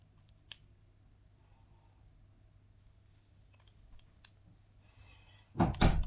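Scissors snip through a wefted hair prosthesis wig being shortened. A few sharp, isolated cuts come close and clear in a quiet room, then a louder run of cutting closes the passage. No one speaks.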